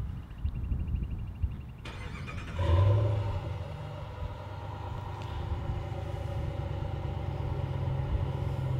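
A 2016 Ram Rebel 1500 with a 5.7-liter engine fires up by remote start: a chime, a brief cranking surge, then a smooth, low, steady idle rumble that settles in and holds.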